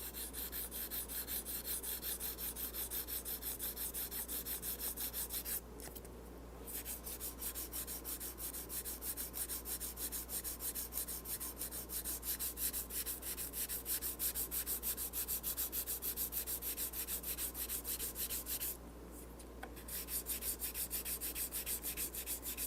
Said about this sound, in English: Then take your corian block, wrap some 800 grit dry sandpaper around it